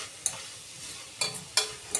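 Cluster beans with black chilli powder and black masala being stirred in a pan, four or five brief scraping strokes against a low background, close and fairly quiet with no talk.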